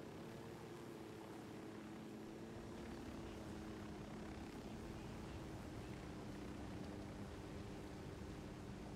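A helicopter in the video game Ghost Recon: Wildlands gives off a steady, droning rotor and engine hum that holds at an even, moderate level throughout with no talking.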